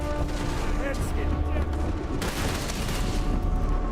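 Enemy gunfire in the space game Starfield on maximum difficulty: a dense, continuous volley of rapid shots and crackling bursts, loud and close, with a voice partly mixed in.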